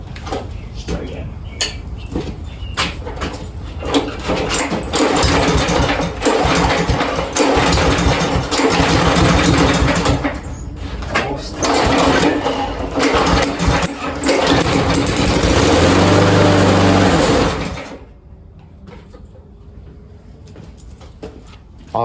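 An old small engine, unused for three years, is pulled over and sputters before catching and running at a rough, loud idle for several seconds, then cuts off abruptly, leaving near silence.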